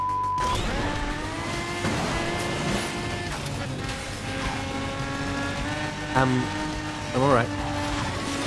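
Lamborghini Aventador SV racing in Asphalt 9, its engine droning and shifting through gears with a couple of sharp revving bursts near the end, all beneath a voice speaking briefly.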